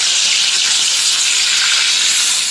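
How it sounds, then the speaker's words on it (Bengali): Loud, steady sizzling of fish frying in hot oil, a dense crackling hiss that continues without a break and with no talking. "আমি এক এক করে মাছগুলোকে ছেড়ে দিচ্ছি, তেলটা ভালোই গরম হয়ে গেছে।"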